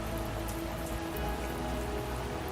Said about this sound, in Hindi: ये क्या मुसीबत है, अब बारिश भी